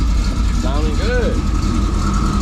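A 1983-1987 Chevy Silverado engine idles with a steady low rumble close by while people talk over it, and a couple of brief chirping tones sound partway through.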